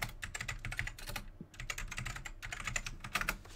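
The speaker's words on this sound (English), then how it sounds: "students can basically type messages this way" Computer keyboard typing steadily and close up, a rapid run of clicks with a brief pause midway, as a chat message is written in a Zoom meeting; no one speaks.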